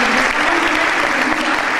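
An audience at a founding congress applauds a speaker, dense, loud clapping filling the room steadily with no pauses.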